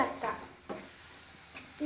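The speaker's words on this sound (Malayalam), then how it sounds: "ഇത്രയും ചെയ്ത് ഇളക്കാം" Tomatoes cooking in a pan are stirred, giving a few brief scraping strokes over a low sizzle, close and fairly quiet.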